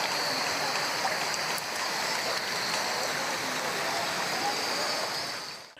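Floodwater rushes through a blocked street drain during heavy rain, making a continuous, dense wash of running water that holds steady and loud throughout.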